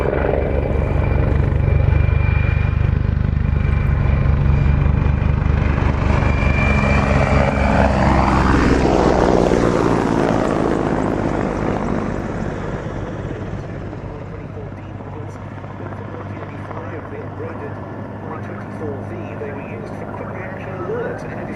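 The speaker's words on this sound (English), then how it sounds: "Here it is, getting back into the air from the 221st Helicopter Squadron of the Czech Air Force" A Czech Air Force Mi-35 Hind helicopter from the 221st Helicopter Squadron flies its display with a loud rotor thump and turbine whine. The sound swells as it passes, then drops back, with a voice talking over it.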